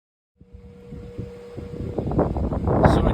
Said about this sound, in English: you can see that it's windy out tonight